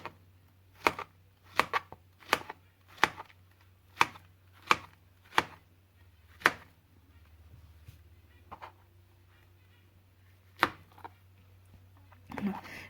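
A knife cuts a banana into small rounds on a board, about ten sharp taps, the first several evenly spaced and then farther apart, close and distinct over faint background hum.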